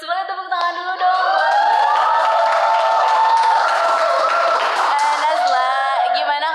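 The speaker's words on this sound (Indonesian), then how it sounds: "Boleh tepuk tangan dulu dong." Studio audience applauds to welcome a guest on a podcast set, a steady wash of clapping lasting several seconds and rising between the host's words, with talk heard at the start and end.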